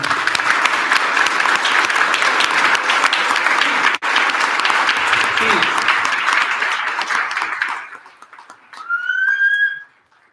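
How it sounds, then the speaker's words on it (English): A round of applause at a township committee meeting, dense and steady clapping for about eight seconds that then fades, followed by a brief whistle-like tone and a short burst of voices. "let's give a round of applause for everybody"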